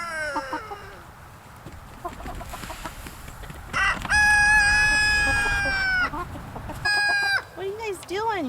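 Chickens cluck and a rooster crows close by on a farm near the nesting boxes, with loud, overlapping harmonic calls rising and falling over a busy background of softer clucking.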